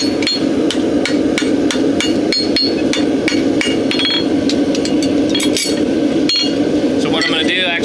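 A farrier hammers a horseshoe on an anvil while shoeing an old horse, giving sharp ringing metallic strikes in an irregular, fairly quick rhythm, close and loud over a steady background hum.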